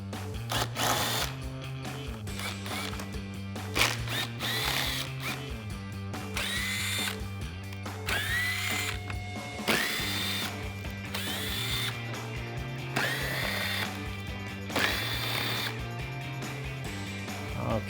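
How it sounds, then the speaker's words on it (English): A power tool backs out the 7mm screws holding the lower belly pan of a 2013-2014 Mustang GT, with repeated loud whirring runs that rise and fall and short ratcheting breaks between screws, close up and with no talking. "There are 17 7mm screws that need to be removed"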